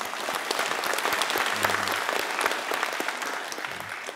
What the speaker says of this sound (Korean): 큰 박수로 맞이하도록 하겠습니다